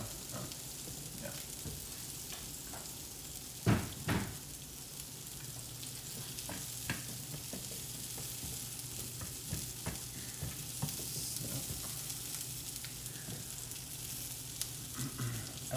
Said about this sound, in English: I'll let those sizzle there for a bit.